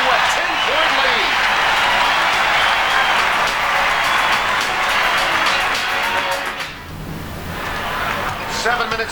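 Loud crowd roar and applause filling an arena at a 1990 Sonics at Suns NBA game, with a commentator talking over it before the noise dips and swells again.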